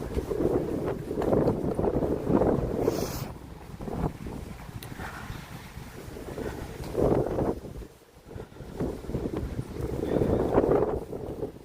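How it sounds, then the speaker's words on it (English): Gusting wind on a street in Toronto's Greektown on a mild winter night, buffeting the microphone in loud, surging waves that rise and ease several times, with a sharp dip near the end. "A lot of wind."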